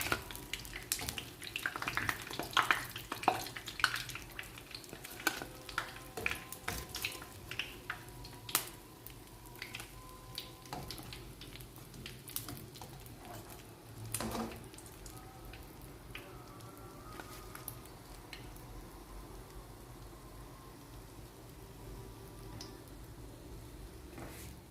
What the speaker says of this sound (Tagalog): Iprito natin yung natitirang sambusa hanggang sa maluto lahat.